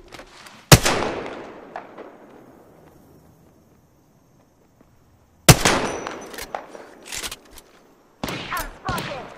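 Gunfire from the video game Apex Legends: a loud near burst of shots rings out and decays, then after a quiet gap comes a dense volley of rapid shots, with further sharp bursts toward the end.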